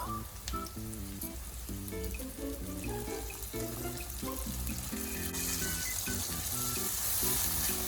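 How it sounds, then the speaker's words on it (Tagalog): Soy sauce poured into a hot pan and lightly sautéed for string bean adobo, a steady sizzle that grows brighter and louder partway through, sitting under continuous background music. "Isusutay lang ng bahagya ang toyo"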